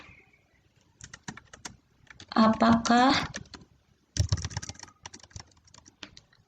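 Quick, close clicks of typing on a computer keyboard come in bursts, with a pause while a person speaks briefly in the middle.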